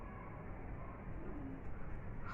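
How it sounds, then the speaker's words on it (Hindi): A huge flock of pigeons, thousands of birds gathered over wheat, cooing in a dense, continuous soft murmur of overlapping low calls, fairly quiet and without speech. "हजारों कबूतर हैं,"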